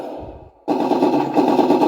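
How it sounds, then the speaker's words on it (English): Simulated hull machine gun sound from a 1/16 scale RC tank model of the IDF M51, played through its speaker: after a brief gap, a sustained loud rattling burst of rapid fire, close and alone. "when you fire the Hall machine gun"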